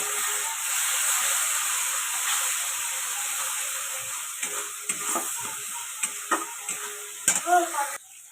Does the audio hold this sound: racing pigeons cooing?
no